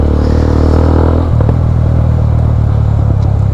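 A motorcycle on a morning highway ride hums with a loud, close engine drone and wind rush, steady apart from a brief dip and a few small clatters.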